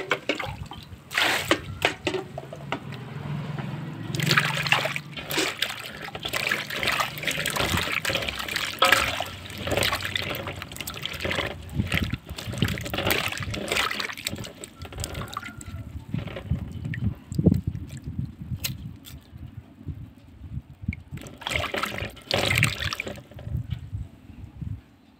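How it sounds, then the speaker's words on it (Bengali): Fresh turmeric roots rinsed under clean running water, with a continuous splashing flow, intermittent trickles and the knock of roots being handled, fairly close and without talk. "হলুদগুলো ভালো পরিষ্কার জল দিয়ে একবার ধুয়ে নিতে হবে, যাতে একটুও মাটি না থাকে।"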